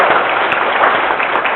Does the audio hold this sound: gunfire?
no